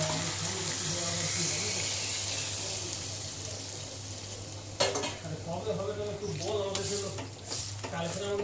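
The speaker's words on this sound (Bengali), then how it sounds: "আমি এবারে জল দিয়ে দিচ্ছি" Water is poured into a pan of hilsa fish with potato, a sudden splash and gurgling that cuts across steady sizzling and a constant hum, followed by bubbling and faint stirring.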